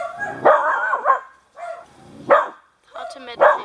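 A dog named Taz barks and yips in short, loud bursts close by, with whimpering sounds between them, while a person calls out over the noise indoors.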